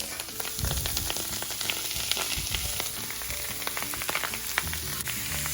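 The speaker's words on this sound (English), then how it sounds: "Stir that around in there, get that a little bit browned" Beef sirloin browns in a hot pan, a dense, continuous sizzle with scattered crackles and pops as the meat gets stirred around, close and steady with no talking.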